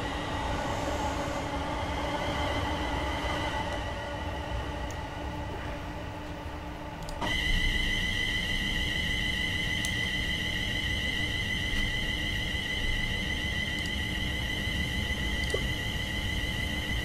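Passenger train running in Train Simulator 2019 on the East Croydon to Milton Keynes route, a steady loud rolling rumble with a sustained high whine that strengthens partway through and continues alone.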